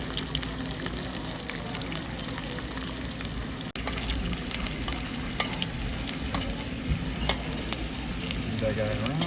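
Zucchini frying in a pan, a steady soft sizzle with occasional stirring clicks and scrapes, close and continuous.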